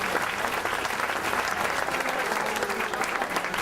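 Guests at a library awards dinner give Congresswoman Hayworth a warm welcome, a steady, dense burst of clapping from the crowd that continues close and loud throughout.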